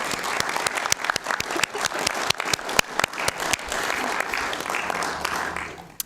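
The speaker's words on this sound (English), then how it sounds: "So I'd like to just give a round of applause for Christian if we could." Round of applause from the attendees at a corporate meeting, steady clapping sustained for about six seconds with sharp individual claps throughout before it tapers off.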